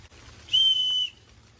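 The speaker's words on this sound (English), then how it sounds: "There's also a whistle in here." A small emergency whistle built into a compact survival tool gives one loud, steady high-pitched blast lasting about half a second, heard alone and close up against a quiet outdoor background in a forest.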